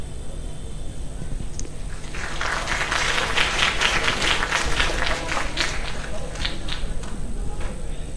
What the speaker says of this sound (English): Can we have another round of applause for Gwen, please?